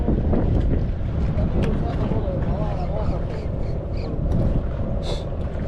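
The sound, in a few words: strong wind at a creek fishing spot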